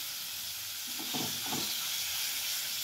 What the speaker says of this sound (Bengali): তো মশলা কষিয়ে এবার আমি দিয়ে দিলাম মাংসের টুকরো।